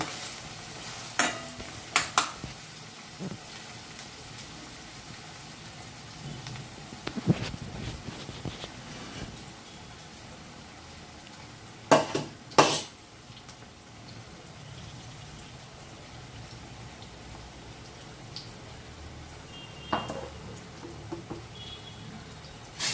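Arrowroot tuber (pulla ganda) curry is stirred and fried in a pan, with a quiet continuous sizzle broken by occasional sharp scrapes and clinks of the spoon against the pan.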